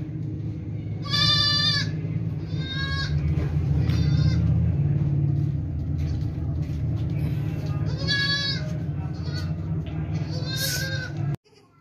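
Goats bleat repeatedly on a farm, several loud nasal calls spaced across the scene, over a steady low rumble of background engine or machinery noise.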